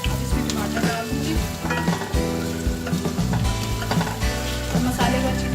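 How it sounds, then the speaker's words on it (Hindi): Tomatoes go into a pan of sizzling masala for an arbi baingan curry, giving loud, steady frying hiss with crackles and the scrape and clink of stirring, close by and without talk. "अब इसमें टमाटर डाल दूंगी"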